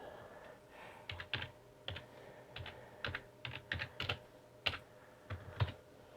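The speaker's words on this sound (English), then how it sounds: "as I'm typing there" Keys clatter on a computer keyboard in short irregular bursts of crisp clicks, close and fairly quiet, with small gaps between runs of keystrokes and no voices over them.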